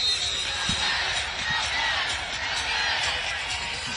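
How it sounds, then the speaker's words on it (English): A basketball game crowd in a busy arena keeps up a constant murmur and cheer, with a few faint ball bounces and thuds beneath it. "Crowd still very much engaged."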